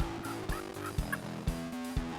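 Wild turkeys in a hunting field, with jakes and hens, give bursts of gobbling and fowl calls over a steady low rumble, with sharp thumps recurring about every half second.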